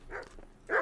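Dogs barking in the medieval RPG Kingdom Come: Deliverance, two short barks separated by a pause, the second louder and closer, with no talk over them.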